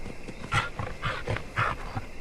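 A dog growls and snarls in the mobile survival game Life After, a series of rough rhythmic growling bursts repeating about every half second, close and moderately loud.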